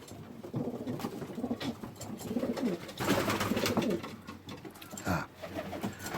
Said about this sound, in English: That's a stray race pigeon, youngster that came in the loft.